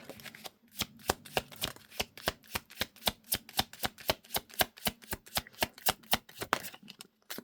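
Tarot cards shuffled by hand in a rapid series of sharp, crisp riffles, about two dozen evenly spaced bursts close up, then a brief pause at the end, with no talking.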